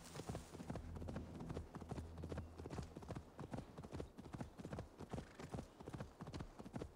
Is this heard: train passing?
no